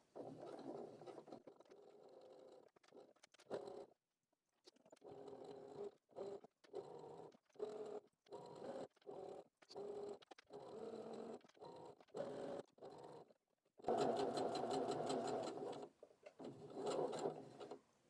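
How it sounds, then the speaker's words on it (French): A sewing machine stitches fabric for a snood in short runs with brief pauses between them, a quiet rhythmic whirr that stops and restarts and comes back louder near the end. "Et voilà, on a cousu tout le long."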